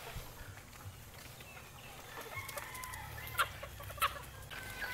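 Chickens cluck while eating feed in a coop or pen, with soft overlapping clucks and a few sharper calls near the end, close by and fairly quiet.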